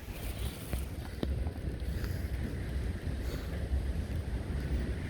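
Strong gusting wind roars across a downtown Brooklyn street during heavy rain, a loud continuous rush with buffeting bursts against the microphone and a few sharp knocks.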